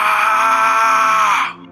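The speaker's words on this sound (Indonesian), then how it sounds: "Jeritanya menggema di antara pepohonan" A long, sustained anguished scream for an audio drama, one loud tonal cry held steadily for about a second and a half before cutting off abruptly into silence.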